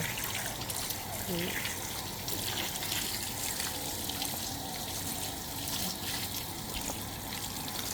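Warm water splashing and trickling steadily while a baby is bathed, continuous close wet sloshing with a brief voice-like sound early on.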